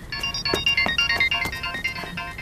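A phone rings with an incoming call, its bright electronic ringtone repeating in quick, rhythmic pulses, loud and close, with no talk over it.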